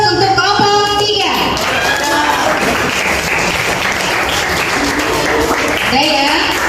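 Applause fills a classroom for a student group after its presentation during a teaching session, with mixed clapping from near and far and voices talking under it.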